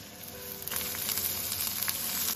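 Scallion, ginger and garlic sizzle in plenty of hot rapeseed oil in a wok, a steady close frying hiss that swells with crackling pops just after they drop in, with no talking.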